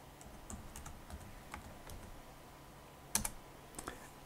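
Faint keystrokes on a computer keyboard as a command is typed into a Linux terminal: scattered, irregular clicks with one sharper tap near the end, heard alone in a quiet room.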